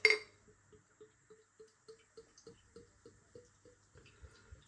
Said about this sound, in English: Beer in the glass.